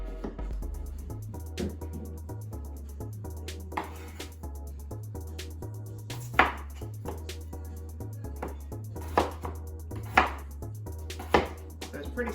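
A knife chops onions, potatoes and zucchini for roasting, with sharp irregular strikes on a board, some louder than others, over soft background music and occasional talk.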